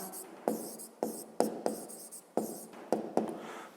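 Pen writing in a notebook during a 5th-grade math exercise, a series of close, sharp scratchy strokes in an irregular rhythm, with no talk.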